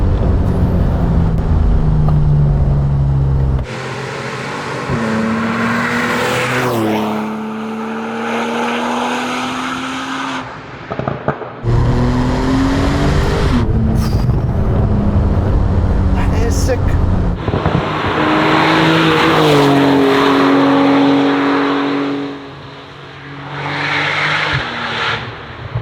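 Techart GTstreet R supercar, an 800-horsepower tuned Porsche, accelerating hard from 0 to 100 km/h as a loud engine roar rises through repeated gear changes, with brief breaks between runs and a voice over parts of it.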